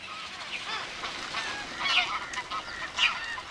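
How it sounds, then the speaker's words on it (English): Geese and other migrating waterfowl honking and calling across India's monsoon-fed marshes, several overlapping calls at moderate distance, scattered and irregular over a quiet background. "the marshes are bursting with the arrival of tens of thousands of waterfowl from Siberia, Mongolia, and China"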